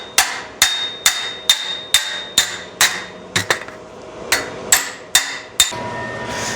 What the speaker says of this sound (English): I'm just letting the weight of the hammer come down.